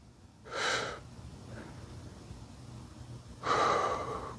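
Heavy breaths during a held core exercise in a stick mobility workout, two loud forceful exhales separated by quieter steady breathing, close to the mic.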